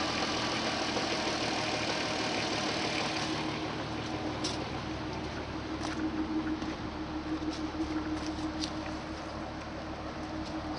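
A 2004 Audi TT 3.2 S-Line Quattro that had sat unused for a couple of years idles steadily after a fuel pump replacement, a continuous low engine hum with a few faint ticks over the top.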